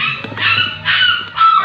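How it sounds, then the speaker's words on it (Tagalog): A dog barks loudly and close by in several sharp bursts, with whimpering yips between them, heard indoors at home during a makeup session. "ang ingay ng aso"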